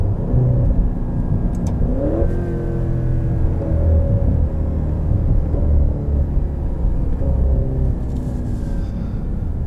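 A 2020 Maserati Levante GTS SUV with 550 horsepower accelerates, its engine rising through gears in a loud, close rumbling pull with shifting tone and light exhaust burble, heard from inside the cabin.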